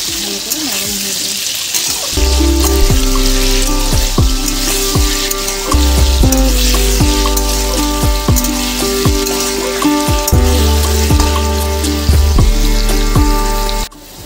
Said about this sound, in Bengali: আলুটার মধ্যে একটু নুন দিয়ে আলুটাকে আমি ফ্রাই করে নেব।